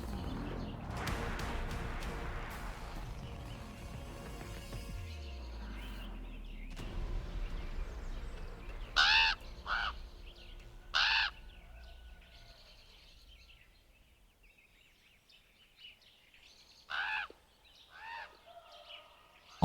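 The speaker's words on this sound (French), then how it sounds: "Les corbeaux, rusés filous du ciel, harcèlent les chasseurs, les distraient et leur volent leur butin." Ravens call with several harsh, loud cries in the Alaskan wild, coming as separate bursts over a low rumbling background that starts with some noise and then quiets down.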